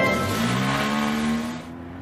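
A Volvo 240 Estate GL towing a caravan pulls away, its engine note rising steadily as it accelerates, loud and close, then easing off near the end.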